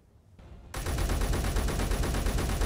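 A precision rifle in the game Space Engineers fires after a brief quiet lead-in, a loud, rapid, evenly spaced string of sharp shots that continues without a break to the end.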